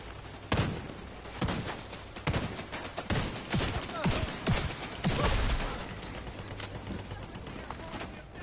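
Bursts of gunfire aimed at enemies in The Division 2, a dense run of sharp shots spread through the clip with players talking over the shooting.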